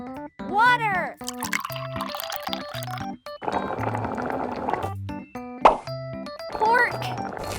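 Water poured into a tiny miniature cooking pot, a short liquid plop and fill amid a busy mix of cartoonish voices and plucky background music, close and fairly clear.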